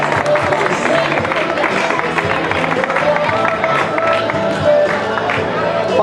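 Steady crowd applause and cheering for a cyclist at the Trofeu Fira i Festes de Canals cycling race, loud and continuous, with voices mixed in.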